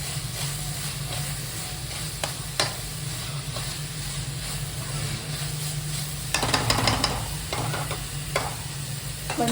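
Pieces of masala sizzle and hiss steadily in a hot pan, with a spoon scraping and stirring through them in bursts, loudest toward the end.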